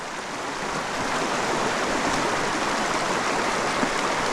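Mountain stream rapids rush steadily during tenkara fishing, a loud, continuous broadband roar of churning water with no pauses.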